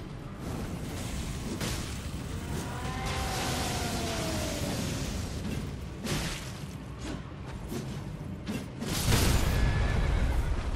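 A horse neighs in the video game Elden Ring, a clear whinny over dense game noise with hoofbeats and whooshing combat sounds.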